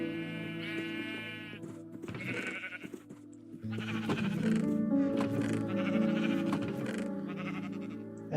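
Minecraft sheep bleat close by with several wavering, nasal bleats, some overlapping, against a quiet background.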